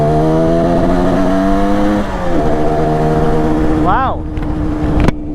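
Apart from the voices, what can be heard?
Yamaha RD350 motorcycle engine running and revving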